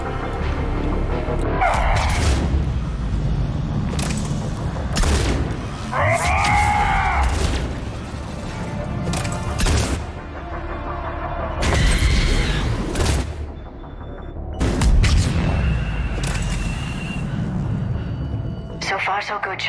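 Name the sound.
explosions in video game Mass Effect 3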